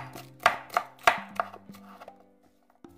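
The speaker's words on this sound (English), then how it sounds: "Let's just take the act of chopping onions." A knife chops onions on a cutting board in a quick series of crisp taps that slow and thin out toward the end, over faint steady tones in the background.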